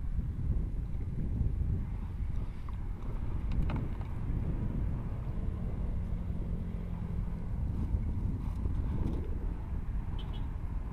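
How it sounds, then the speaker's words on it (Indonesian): Strong wind buffets the microphone in a steady, loud rumble outdoors beside a swamp at Rawa Pucuk in Lamongan, with faint water and distant motor sounds beneath and no clear talk. "Cepet angin ya."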